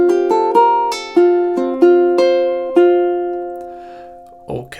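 Ukulele and acoustic guitar play a short duet phrase. Bright plucked notes ring over steady lower accompaniment, and a brief thump comes at the end.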